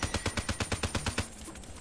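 A character's special weapon firing in Call of Duty Black Ops III multiplayer, a fast evenly spaced burst of about a dozen heavy shots, then a brief tail as the firing stops.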